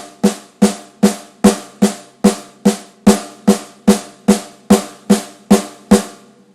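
Paradiddle sticking as sixteenth notes on a drum set, a steady, even stream of sharp, close drum strokes repeating with a regular pulse, played alone.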